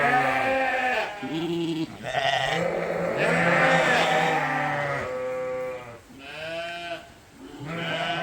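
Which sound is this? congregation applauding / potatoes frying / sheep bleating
sheep bleating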